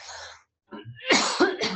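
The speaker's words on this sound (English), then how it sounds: "I'm going to cough." A couple of harsh, close coughs from a man with spring allergies, in quick succession, loud and throaty, after a brief pause.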